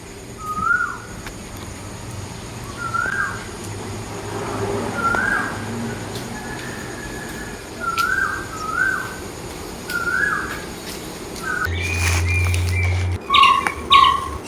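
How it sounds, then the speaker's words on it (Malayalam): A bird repeats a clear, whistled chirp at regular intervals over a soft outdoor background, with a few sharper calls near the end. "ശബ്ദങ്ങൾ കിളികളുടെ ശബ്ദങ്ങളൊക്കെ കേട്ടുകൊണ്ട്"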